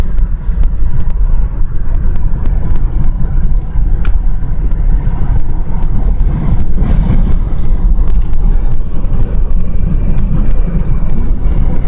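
A car cruising on the road between Norfolk and Portsmouth, a steady broadband rumble of engine and road noise with wind buffeting, continuous and fairly loud throughout.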